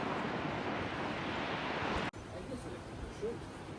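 Wind and sea surf roar steadily along an Italian coast as a big rainstorm approaches, a loud broadband rush that cuts off abruptly midway and continues more softly, with faint voices in the background.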